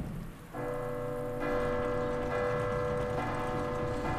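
A clock tower bell tolls in Resident Evil 2 Remake, a sustained ringing tone that swells near the start and keeps sounding loud and steady, layered over rainy game ambience with no talking.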